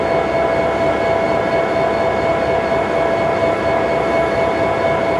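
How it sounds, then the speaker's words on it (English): An EMD SD-series diesel locomotive runs steadily up close, a loud, continuous engine rumble with droning tonal whine held evenly throughout, no speech. "I love the sound of the EMD."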